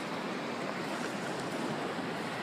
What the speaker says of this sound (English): on the sand, away from the scary waves